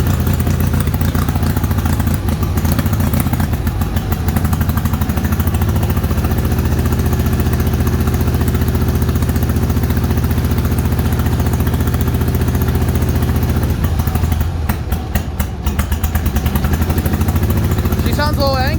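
A Bolens HT-23 garden tractor engine runs rough and uneven, chugging and clattering steadily throughout while people talk over it, with a brief burst of sharper rattling near the end.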